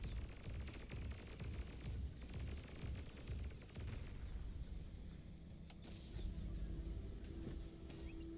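Beamer turrets firing in a strategy video game, a dense, continuous stream of rapid blasts and rattling fire with faint metallic pings, steady and fairly quiet, with no voices.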